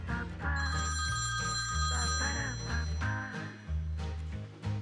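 A telephone rings with a bright electronic trill, repeated in bursts over a loud, steady backing melody in a Christmas setting.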